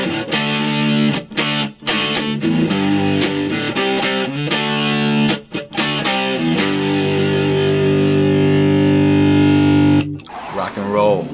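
Loud distorted electric guitar power chords chug in rapid repeated strikes, then a long sustained chord rings out before a short scrape at the end.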